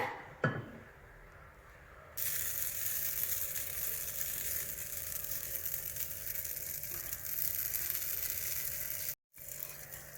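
Oats banana pancake sizzling in a hot pan, a soft, steady frying hiss that starts after a brief clink and continues evenly, faint and close, with a short cut near the end and no speech.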